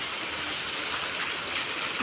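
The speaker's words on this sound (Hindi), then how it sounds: "बहुत ज़्यादा बारिश हो रही है।" Heavy storm rain pours steadily and loudly outside a room in Kharar, Chandigarh, a dense continuous hiss with no pauses and no talking.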